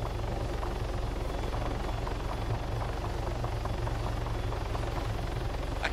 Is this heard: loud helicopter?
yes